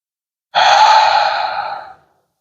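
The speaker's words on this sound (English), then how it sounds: "Let's take a deep breath together." A single deep audible exhale, a long breathy sigh lasting about a second and a half, close and clear against silence.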